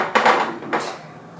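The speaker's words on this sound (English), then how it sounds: "I'm going to toss a little bit in and I'm going to add some of the white onion in" Cauliflower and white onion pieces are tossed into a jar, making two distinct clattering knocks against the glass about half a second apart, close and clear, with no talk.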